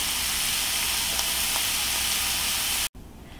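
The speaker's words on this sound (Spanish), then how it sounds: "aquí me voy a quedar sofriendo este delicioso chorizo" Chorizo frying in a pan, a loud, dense, steady sizzle and hiss that cuts off abruptly near the end, leaving a fainter hiss.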